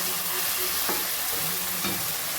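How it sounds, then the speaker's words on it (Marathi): Peas and rice frying and being stirred in a hot pan, with a steady loud sizzle throughout and a few scraping stirs. "ह्याच्यातच ह्याच्यात मटर पण परताय टाकणार आहे तांदूळ पण टाकते"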